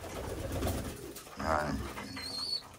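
Pigeons coo softly nearby in a few low, throaty phrases, with faint chirps and light background noise; one short word of speech cuts in.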